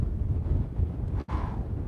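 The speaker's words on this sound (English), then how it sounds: "Look how windy it is." Strong wind gusts buffet the microphone beside open water, a steady low rumble broken by one brief dropout.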